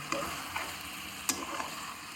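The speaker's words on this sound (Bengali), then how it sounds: "ভালো করে নেড়ে নেব" Chicken frying in a pan for gondhoraj lemon chicken sizzles quietly and steadily, broken by a few light scrapes and clicks as it is stirred, with one sharper knock near the middle.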